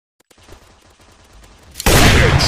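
Rapid automatic gunfire from the mobile multiplayer shooter Shadowgun, starting as faint quick pops that build into a loud, dense burst of shots near the end.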